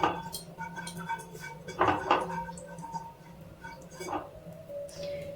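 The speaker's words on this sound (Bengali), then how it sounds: "নাড়াচাড়া করে নিচ্ছি।" Ghee stirred in a kadai while heating, with a few light metallic scrapes and clinks of a spoon against the pan over a steady low background hum, near and moderate in level.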